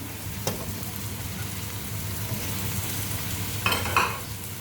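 Lamb and courgettes frying in a pan for a tagine, a steady close sizzle with occasional stirring scrapes and a couple of louder clinks near the end.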